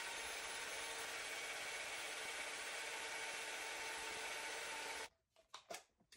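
Sport-weight yarn runs onto a yarn winder with a steady, even whirring hiss for about five seconds, then it stops and a few soft clicks and knocks follow.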